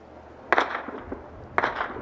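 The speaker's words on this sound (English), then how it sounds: "We can hear the sound of firefights nearby" Two sharp distant cracks of gunfire from a nearby firefight, spaced about a second apart, each followed by a short echoing tail over a low, steady background.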